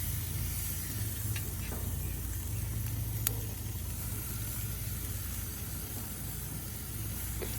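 Chicken skewers on an already hot outdoor grill give a steady, even hiss of sizzling that holds at a constant level throughout, with a few faint clicks and no talking.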